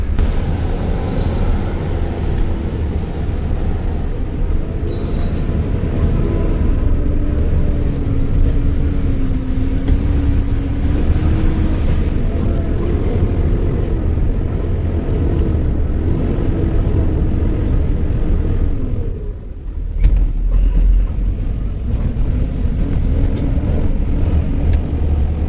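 An overloaded damper truck rumbles heavily over the Garipur railway level crossing in the rain, a continuous loud low drone with a steady engine whine that briefly dips before resuming.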